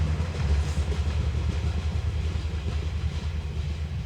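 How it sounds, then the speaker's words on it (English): A train rumbles past outdoors, a steady heavy low roar with rhythmic clattering of wheels on rails, fairly loud and continuous, with no voices. "there's the train again"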